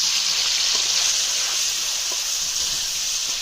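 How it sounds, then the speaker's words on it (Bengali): Large prawns frying in a pan over a village cooking fire, a steady close sizzle and hiss that holds even and unbroken throughout with no voices. "ভেজে নেবে এবার।"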